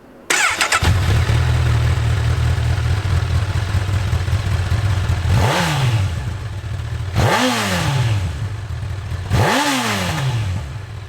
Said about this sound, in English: So just turning on the engine.